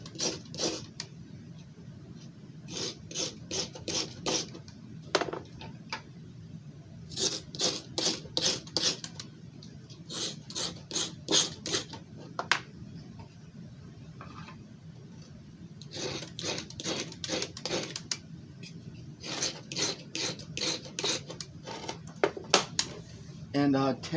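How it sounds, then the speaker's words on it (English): Kitchen knives being sharpened, repeated rhythmic rasping strokes in quick runs separated by short pauses, close by and fairly quiet. "maybe these knives could use a little sharpening"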